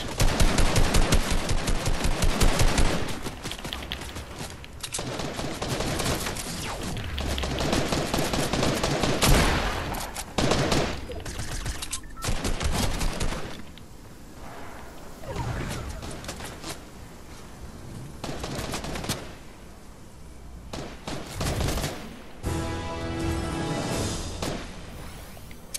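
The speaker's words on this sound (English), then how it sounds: "There's so many kids shooting at me" Dense gunfire in Fortnite, rapid automatic bursts and overlapping shots, loud and near, continuing with short pauses and quieter stretches toward the end, no talking.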